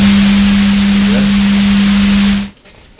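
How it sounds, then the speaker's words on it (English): Generated white noise, a loud steady hiss with a constant hum underneath, cutting off abruptly after about two and a half seconds. "There's some white noise. I can generate some white noise."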